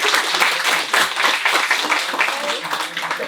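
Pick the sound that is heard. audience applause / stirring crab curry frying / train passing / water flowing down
audience applause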